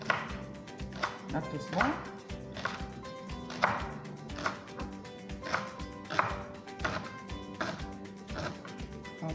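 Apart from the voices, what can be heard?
chopping leek with a knife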